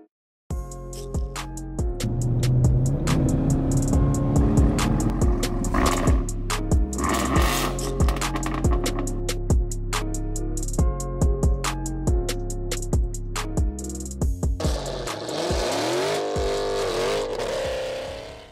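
A white Chevrolet Camaro ZL1 1LE at a Cars and Coffee meet, its engine roaring loud and close with deep, steady rumbling and repeated rising revs, easing toward a lower idle near the end.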